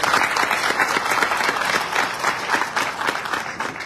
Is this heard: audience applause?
yes